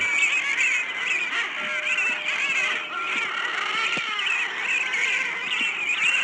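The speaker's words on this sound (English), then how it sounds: "So hear how loud these birds are" A large flock of thousands of seabirds at the ocean calls continuously, a dense chorus of shrill, overlapping cries, somewhat muffled as if played back through a phone.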